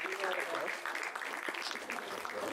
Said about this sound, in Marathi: एकदा जोरदार टाळ्या आपल्या श्रेयस तळपदेंसाठी झाला पाहिजे.